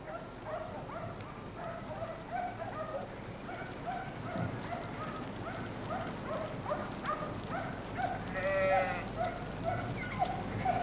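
White-fleeced sheep in a paddock bleat repeatedly across a noisy outdoor field, several calls overlapping at moderate distance, with one louder bleat near the end.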